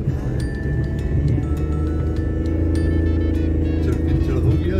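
Car engine rumbling and revving steadily as the vehicle climbs a rough, rocky track near Thaddo Dam outside Karachi, loud and close throughout, with people talking over it.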